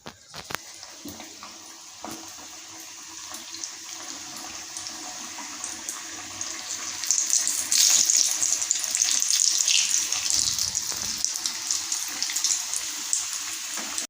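Carrot and onion samosas deep-frying in hot oil, a steady bubbling sizzle that swells louder midway and continues evenly, with no talk.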